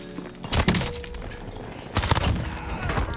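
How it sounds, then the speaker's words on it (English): Video game gunfire, with two bursts of rapid shots close by, separated by a quieter stretch of muffled background action and no speech. "Taking fire here."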